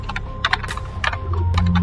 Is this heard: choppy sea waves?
no